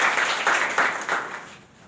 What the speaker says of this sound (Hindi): पहले तो आप एक बार ताली बजा दीजिए